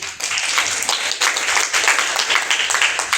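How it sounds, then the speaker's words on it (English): An audience at a business networking event claps in a dense, continuous round of applause. The sound is loud and steady with many overlapping hand claps and no clear talk on top. "A big round of applause, please."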